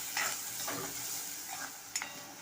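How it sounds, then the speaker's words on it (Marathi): Onions sautéing over a high flame in a pan until reddish, for a bitter gourd dish: a continuous close sizzle with several soft scraping stirs across it. "कांदा आपल्याला लालसर होईपर्यंत परतून घ्यायचा आहे"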